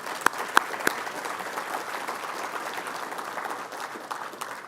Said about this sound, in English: I think you all deserve a round of applause for that.